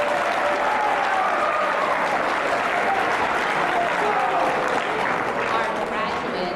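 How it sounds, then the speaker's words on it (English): Loud, sustained applause from a large crowd of students and guests in a school assembly hall, a thick continuous roar of clapping with some cheering voices mixed in at a senior recognition assembly. "You can applaud that if you want."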